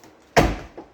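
Inside door handle of a Chrysler Town and Country minivan with a faulty latch pulled once: a single sharp, close clunk followed by a fainter click a moment later.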